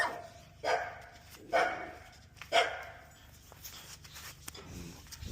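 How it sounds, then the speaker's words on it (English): Dogs barking outdoors at a house in wine country: three loud, distinct barks spaced about a second apart, followed by softer yips and movement noises, with no talk over them. "I love dogs. Yeah, they just bark."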